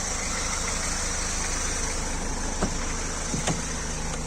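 1993 Citroën ZX 1.9 diesel engine idling, a close, steady clattering drone with a couple of faint knocks, no talk over it.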